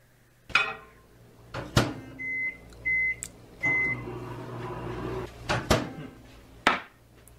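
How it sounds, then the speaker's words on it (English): A microwave oven cooks an Oreo mug cake, with a steady hum, three short beeps, door clunks and kitchen knocks around it, no talking. "Is that like a microwave cake cup thingy?"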